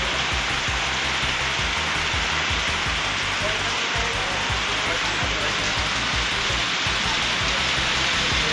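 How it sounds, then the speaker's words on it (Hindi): Torrential night rain falls outside shops in Narayanpur, a continuous dense roar of water drumming on surfaces, loud and unbroken. "इतनी तेज बारिश पड़ रही है"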